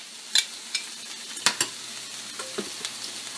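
Black beans cooking in a pan, stirred with a utensil: a soft sizzle underneath several distinct scraping clicks spaced irregularly.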